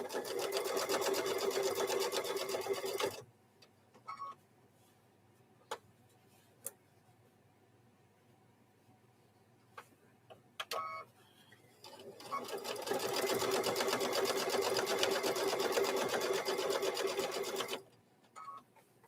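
A sewing machine stitches through thick layers of fabric for microwave bowl koozies, loud steady whirring in two long runs with a quiet stretch of scattered clicks and handling sounds between them.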